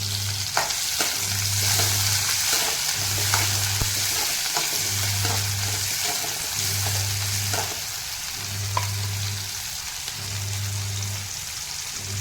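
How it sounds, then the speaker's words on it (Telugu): Chopped onion, tomato, green chilli and curry leaves frying in a pan, a constant dense sizzle and crackle with a low hum pulsing on and off in the background. "తర్వాత మనం కట్ చేసుకున్న ఎర్రగడ్డ, టమాటా, పచ్చిమిర్చి, కరివేపాకు ఇవి కూడా ఇందులో వేసి మనము దాన్ని బాగా వేగనివ్వాలి."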